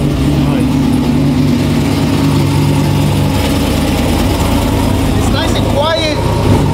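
An 800 hp LT4 V8 in a 1994 OBS Chevy truck with a 10-speed swap rumbles at a steady idle, loud and close, with people talking over it.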